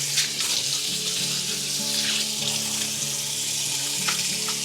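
Water runs steadily from a kitchen tap over a skin-on salmon fillet being rinsed in a sink, a continuous close splashing hiss with faint clinks, no talking.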